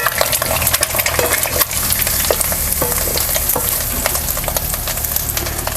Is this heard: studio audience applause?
no